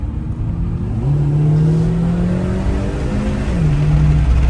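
A DS4 E-Tense 225 Performance Line plug-in hybrid drives and accelerates, its steady engine hum climbing in pitch through gear changes, close and continuous from inside the car with no talk.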